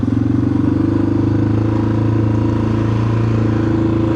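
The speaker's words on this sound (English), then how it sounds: "That idle, because that is well too high." A Yamaha XT600 single-cylinder engine idling too high, a loud, steady close-up thrum with a fast even pulse and no speech.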